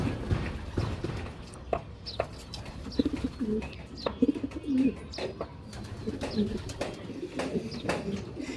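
Racing pigeon chicks coo softly in low, murmuring bursts amid scattered clicks and shuffling, close by and fairly quiet.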